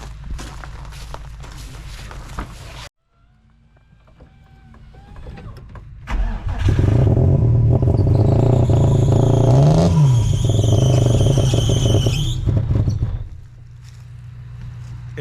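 Nissan 350Z engine cranks and catches, then runs loud and steady for several seconds with a brief rising rev before settling, preceded by quieter mechanical shuffling and clicks.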